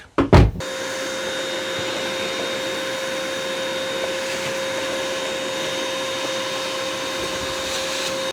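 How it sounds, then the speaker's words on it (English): A shop vac whirs to life after a brief clatter and runs at a steady, loud drone with a constant whining tone until it cuts off abruptly at the end. "All right, shop vac."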